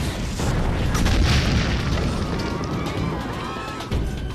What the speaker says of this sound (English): 69 cannons.